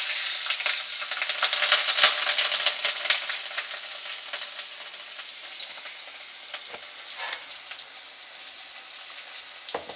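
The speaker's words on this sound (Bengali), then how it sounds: "মাছ ভাজার তেলেই আমি কালো জিরা দিয়ে দেব আর এই কাঁচা লঙ্কাটা" Black cumin seeds and green chili sizzle in leftover fish-frying oil, a dense crackling hiss that is loudest at first and then settles into steady spitting and popping, with no talking.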